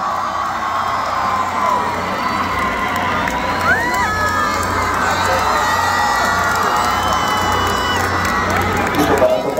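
A huge concert crowd of thousands in Huamantla cheers and whistles while clapping, a roaring wash of voices with shrill whoops and whistles rising above, loud and continuous.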